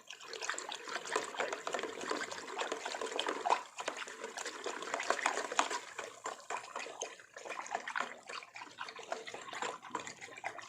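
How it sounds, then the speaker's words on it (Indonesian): Salt water pours and trickles steadily into a container while silver is refined, a continuous close liquid splashing with small surges, no talking. "Oke, tambah lagi air garamnya ya."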